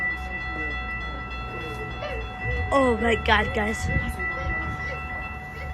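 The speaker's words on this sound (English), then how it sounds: "Okay guys, the train's arriving." A train pulling into Glenview station, Illinois, with a steady low rumble and a loud horn blast of stacked tones partway through; a person exclaims briefly over the noise.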